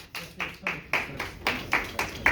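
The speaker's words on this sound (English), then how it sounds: "Give a round of applause." A small audience gives a round of applause, heard as a string of distinct, evenly spaced claps, about eight in just over two seconds, moderately close and fairly quiet.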